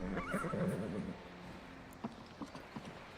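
A horse whinnies in the Skyrim VR video game, a clear, wavering neigh up front, followed by a few soft hoof clops and faint thuds on a quiet background.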